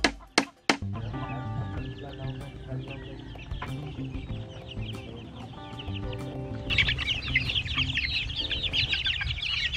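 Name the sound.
native chicks clucking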